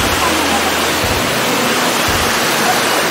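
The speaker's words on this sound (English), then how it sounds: "today we are at our kampung waterfall" A village waterfall roars in a dense, continuous rush of falling water, loud and close, filling the whole clip without a break.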